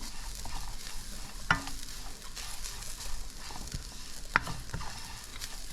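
Sugar cake mixture, likely grated coconut for Guyanese sugar cake, toasting in a pan while a spoon stirs it, giving a soft steady sizzle with two sharp scraping knocks against the pan.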